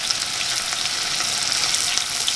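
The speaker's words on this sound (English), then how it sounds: "It's going to bubble in that butter. It's going to fry really nicely." Chicken seasoned with pepper and garlic powder fries in bubbling butter in a pan, giving a steady, close, continuous crackling sizzle with no pauses and no talking.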